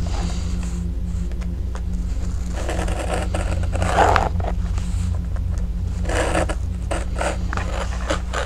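Scissors cutting through stiff paper planner pages, repeated close snips and scraping paper rustle in irregular bursts, with no talking.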